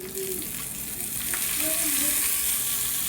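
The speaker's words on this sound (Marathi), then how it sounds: "इकडे मी तेल गरम केलं आहे एका पातेल्यामध्ये, त्याच्यामध्ये जिरे, मोहरी, उडीद डाळ, त्याच्यानंतर कढीपत्ता, लाल मिरची आणि लाल मिरची पावडरही टाकून घ्यायची आणि छान असा तडका द्यायचा" Cumin, mustard seeds, urad dal, curry leaves, red chillies and chilli powder crackling in hot oil in a pot for a tadka, a steady close sizzle with a few stirring scrapes.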